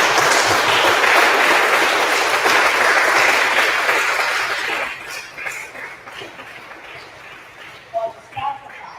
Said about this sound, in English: please join me in a round of applause to thank the Little Rock